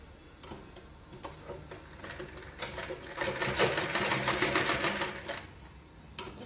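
A sewing machine stitching a girl's frock at home, rapid ticking runs of stitches starting and stopping, with a longer louder burst in the middle, close and alone.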